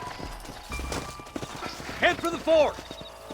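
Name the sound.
horse hooves in video game Red Dead Redemption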